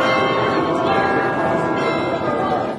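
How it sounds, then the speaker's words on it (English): Church bells peal from steeples in a fairy-tale audiobook setting. The ringing is loud, dense and continuous, with layered overlapping tones throughout. "And then to hear the merry bells peal out from the church steeples."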